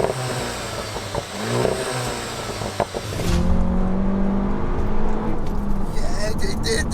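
A Seat Leon Cupra 290 accelerates hard toward 6,500 rpm with a rising engine roar heard from inside the cabin, then settles into a steady loud drone after a gear change, while someone talks over it.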